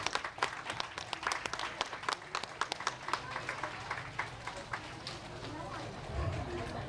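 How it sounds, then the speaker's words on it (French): Audience applause at a kindergarten's end-of-school-year closing ceremony, a crowd clapping steadily with sharp individual claps that thin out over several seconds, heard at a modest distance with a voice speaking over it. "Applaudissons pour elle."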